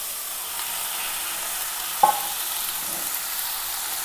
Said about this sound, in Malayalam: നമ്മൾ ഇനി റെഡിയാക്കി വെച്ചിരിക്കുന്ന ബീൻസ് ഇട്ട് കൊടുക്കാം.